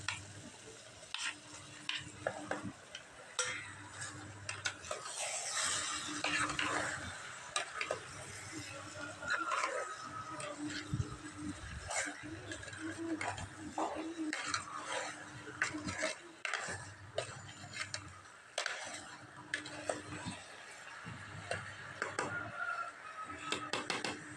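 Chicken and onions fry in a home kitchen pan and are stirred again and again, so utensil scrapes and clinks come in irregular bursts over a constant close sizzle.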